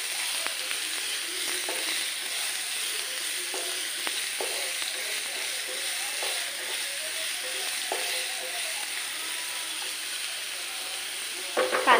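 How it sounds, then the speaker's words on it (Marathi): Onion and curry leaves sautéing in a pan over a raised flame, a soft continuous sizzle with light scattered stirring clicks, fairly quiet and close, and a brief louder clatter at the very end. "हे बघा, कांदा नरम होईपर्यंतच परतवायचा, लाल करायचा नाहीये"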